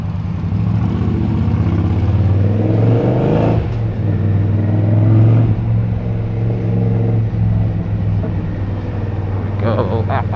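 An Indian Scout Rogue motorcycle rides through New York City traffic, its engine giving a steady, close, droning hum with a slight swell midway; a voice speaks over it at times.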